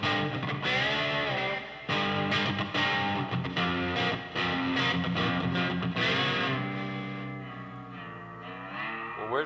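An electric slide guitar plays a lesson phrase with a slightly distorted tone, gliding between sustained notes and chords, loud and continuous with no talking.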